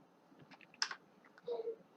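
Keys on a computer keyboard are tapped while Python code is entered, a few soft, close clicks in a short cluster followed by a faint murmur.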